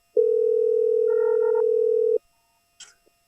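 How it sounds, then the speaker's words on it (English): A cell phone dial tone plays steadily for about two seconds and stops abruptly, followed by a few faint clicks and a short beep, with no talking. "She calls her friend Angela."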